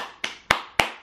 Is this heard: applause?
yes